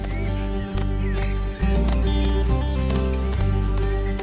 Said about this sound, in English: This region is home to an old Swiss horse breed,